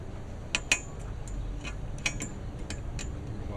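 Spring clips on a Ford Transit van roof rack are twisted and snapped into their grooves, producing a handful of sharp, close metallic clicks and clinks spread irregularly over a few seconds.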